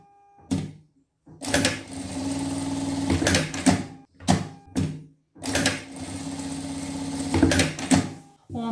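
Sewing machine stitching the shoulder seams of a trapeze dress, several close mechanical runs of whirring stitches, each a second or two long, separated by short pauses.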